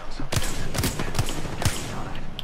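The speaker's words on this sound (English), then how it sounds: "someone else shooting me" Gunfire in the video game Apex Legends: several rapid, punchy bursts of shots in quick succession, loud and close over a dense, constant background of game noise.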